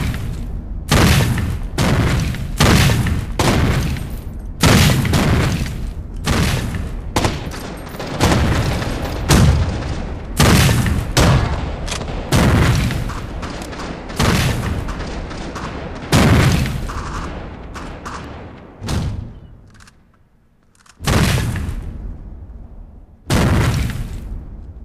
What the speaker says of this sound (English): You guys planted like fucking heavy mortar charges all over the place.